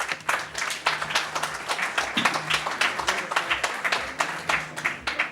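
Audience applause at a business summit in São Paulo, a dense, steady wash of many hands clapping through the whole stretch, with some voices faintly mixed in.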